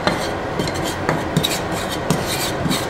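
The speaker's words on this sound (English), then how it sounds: "pour my curry in here and just make sure you are constantly stirring this so it does not burn" Curry sauce stirred constantly in a pan, giving a steady, close scraping and rubbing with small clinks of the utensil against the pan.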